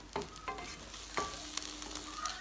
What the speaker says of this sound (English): But I just want to do a little sauteing before I add it